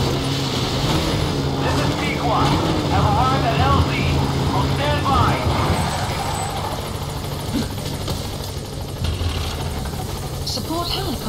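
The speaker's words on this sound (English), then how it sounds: "support helicopter has arrived." A support helicopter arrives at a landing zone in Metal Gear Solid V: The Phantom Pain, a steady loud rotor and engine drone throughout, with a voice speaking over it and a busy game soundscape.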